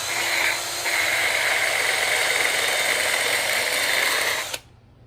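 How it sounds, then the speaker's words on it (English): A carbide bit in a power tool grinds away a metal turn signal socket on a Chevy truck, a loud, steady high-pitched whine held for several seconds before stopping sharply. "so now we'll take the carbide bit"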